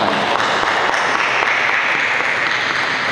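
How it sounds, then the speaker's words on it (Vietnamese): Sustained applause from a church congregation welcoming guests at a gathering of elderly parishioners in the Xuân Lộc diocese, a dense, steady wash of many hands clapping throughout. "Chúng ta chào đón bằng một tràng pháo tay"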